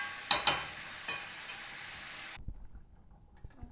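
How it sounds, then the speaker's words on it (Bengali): Water poured into frying cauliflower and potato, setting off a loud burst of sizzling with a few sharp spits that cuts off abruptly, leaving a quiet room with faint knocks. "এবার জল দিয়ে দেবো পরিমাণ মতো।"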